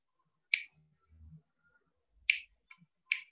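Three sharp, bright finger snaps ring out in a quiet room, spaced irregularly over a few seconds, with a softer click between the last two and faint low thumps in the background.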